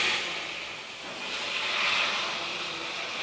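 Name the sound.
boiled water poured into pan of rava upma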